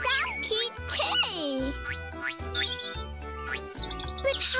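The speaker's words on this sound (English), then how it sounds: "Ooh, baby birds! I saw cute ones in their nest." Cartoon baby birds chirp in their nest, high bright tweets and squeaky calls layered over background music with a steady pulsing beat, fairly loud and close.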